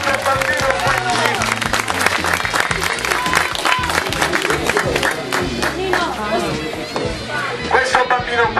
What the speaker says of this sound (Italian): Un applauso ragazzi.